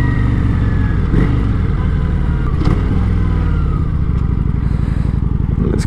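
A Kawasaki Vulcan 900 Classic motorcycle is ridden with its engine droning loud and close in a steady throb, mixed with wind buffeting and occasional clatters.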